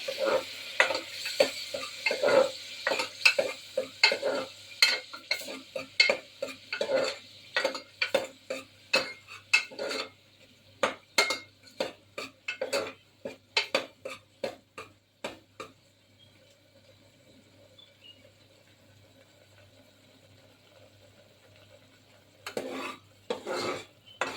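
Ground masala for whole moong kadhi being fried and stirred, quick rhythmic metallic scrapes and clinks of a spoon against the pan over a faint sizzle, stopping for several seconds, then resuming briefly.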